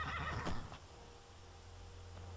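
A short horse whinny from a video game, Skyrim, somewhat thin and processed, followed by a quiet, low steady hum.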